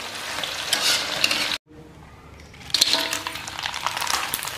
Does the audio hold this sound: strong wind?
no